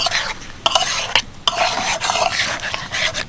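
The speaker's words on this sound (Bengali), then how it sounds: "সবগুলো ভালোভাবে এবার নাড়াচাড়া করে নেব।" Vegetable manchurian in tomato gravy is stirred in a pan, with loud, close scraping strokes and a few sharp utensil knocks over a constant wet sizzle. No one talks.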